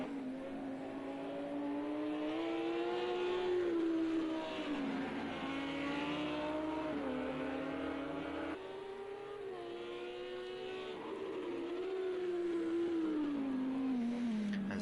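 A GT3 race car in a sim racing league event at Spa enters the pits in the McLaren, its engine holding a steady, droning tone that dips and rises slightly as it slows, with no voices over it.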